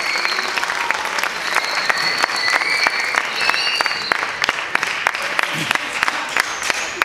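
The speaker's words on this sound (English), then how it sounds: "a big applause for Rebecca, our test subject" An audience at a science show final applauds a volunteer test subject, steady continuous clapping with crisp close claps throughout and some faint voices underneath.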